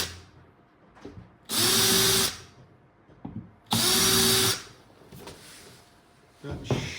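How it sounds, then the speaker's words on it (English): Two bursts of a power drill countersinking nail holes in a wooden pinball cabinet, each a loud, close whine of about a second, with knocks and handling sounds and someone speaking between them. "I just countersink them in"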